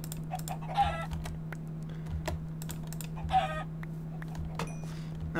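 Chickens clucking in a Minecraft Technic modpack, two short clucks standing out over a steady hum and scattered keyboard-like clicks, no voices.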